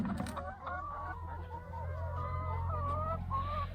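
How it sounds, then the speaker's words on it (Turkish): Several chickens clucking and calling nearby in short, repeated bursts over a low steady background hum. "Tavuklarımız da etrafta limon yiyorlar."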